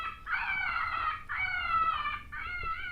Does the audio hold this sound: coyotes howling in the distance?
yes